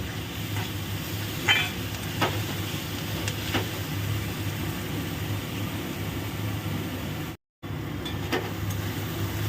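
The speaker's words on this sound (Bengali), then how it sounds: "আগে এটাকে সুন্দর করে ভাজা ভাজা করে নিই" Minced soya chunks fry with salt in a pan, a steady sizzle with occasional scrapes of stirring. The sound cuts out briefly near the end before the frying resumes.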